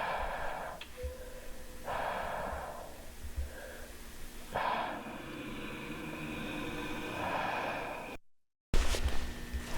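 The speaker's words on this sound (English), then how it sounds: "It's like there was either something growling in the distance or there was something sleeping and just snoring." A low rumbling, breathy sound like distant growling or snoring recurs in slow swells inside the eerie, empty Backrooms setting, faint and hollow, with a brief dropout near the end and no talking.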